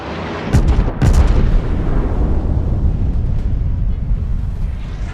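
Heavy guns of the Shikishima, a Tier 10 premium Japanese battleship in World of Warships, fire in loud booming blasts near the start, followed by a long rumbling roar that slowly fades.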